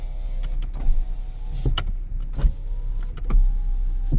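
Power windows of a Lexus IS200 car running, a loud close electric motor whir rising and stopping in several separate runs, with clicks and thumps as the glass halts.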